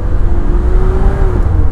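A Toyota Kijang Super 91 long-body engine revs while driving over a paved road, a loud rumbling drone with a steady whining tone that rises slightly and then settles.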